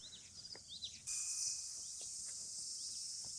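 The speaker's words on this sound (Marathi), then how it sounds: "केवढे किडे आहेत ना, किड्यांचा आवाज बघ." Insects chirping around a village near Saphale, Palghar, in the early morning, a faint high steady buzzing trill that starts abruptly and continues throughout, with a few soft bird chirps.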